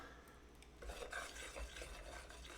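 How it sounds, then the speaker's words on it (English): Glutinous rice flour mixed with strawberry milk being stirred in a bowl, a soft steady scraping and sloshing with a few light clinks of utensil against the dish, fairly quiet and close, no voices. "our glutinous rice flour. And let's stir it up."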